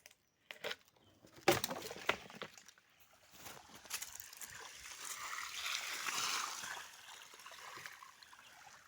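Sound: water gushing out of a pipe

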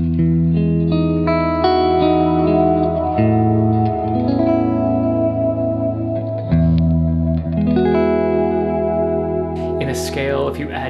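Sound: guitar playing a chord with added 9th

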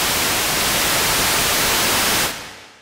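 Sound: white noise from Haken Continuum EaganMatrix synthesizer

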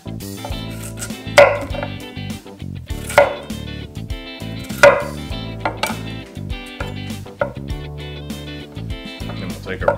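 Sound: knife cutting a potato on a board

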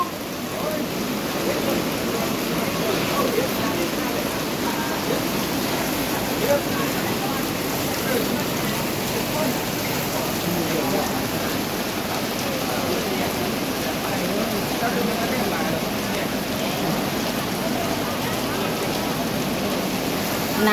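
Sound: heavy rain falling

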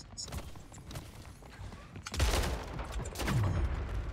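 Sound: shotgun firing in a video game gun game

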